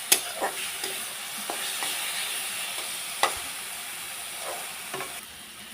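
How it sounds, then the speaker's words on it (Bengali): Brinjal pieces fry with spices in a pan for pabda fish curry, a close, steady sizzle broken by a few soft scrapes and stirs, with no talking. "এখন এর মধ্যে আমি বেগুনটা দিয়ে ভালো করে মশলার সাথে কষিয়ে"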